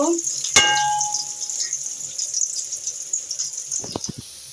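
Onions and chilies dropped into hot oil in a pan for a noodle dish, a sharp sizzle at first that settles into a steady hiss and crackle, with a few clinks near the end and no talk.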